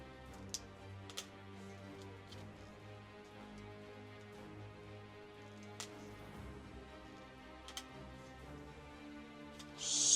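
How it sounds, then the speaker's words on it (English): Plastic sprues are snipped off model tires from a Rolls Royce armored car kit, producing a handful of sharp, isolated clicks spaced a second or more apart over a very quiet background. "The last bit is just to cut the sprues off of these tires"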